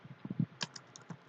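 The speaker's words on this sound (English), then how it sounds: "I'm going to type in password" Keys tapped on a computer keyboard while entering a password on a Cisco network device, a quick irregular run of soft close clicks, faint and alone.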